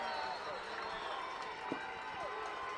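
Crowd at a high school playoff football game between Carlisle and Reading, a steady distant roar of spectators under a commentator's voice, with scattered cheering and clapping.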